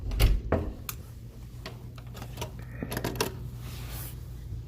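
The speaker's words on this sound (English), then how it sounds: "Probably should lock this door too." A door is pushed shut and locked, with a heavy thud up front followed by several sharp metallic clicks and rattles from the latch and lock, close by.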